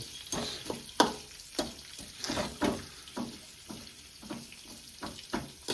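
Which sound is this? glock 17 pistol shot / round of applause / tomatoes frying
tomatoes frying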